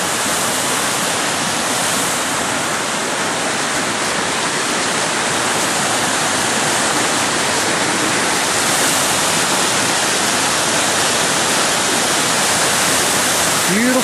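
A creek rushing near a cave on a rainy day, with loud, dense, continuous water noise filling the whole stretch close by and no voices.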